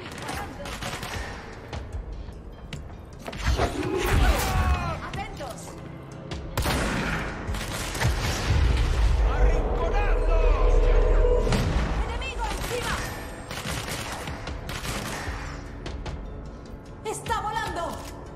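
Sustained automatic gunfire from the video game Control rattles in loud, repeated volleys with heavy thuds and booms, swelling and easing over about eighteen seconds beneath talking voices.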